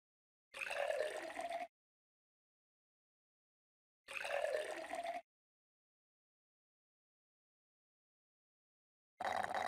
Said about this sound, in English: Tap the jug to help Peppa and George pour the fruit juice.